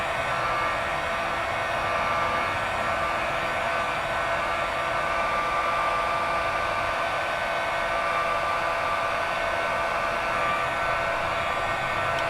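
A heat gun running on its low setting blows a steady whirring hiss as it warms the adhesive of a performance decal on a BMW M4, continuous and close with no talking.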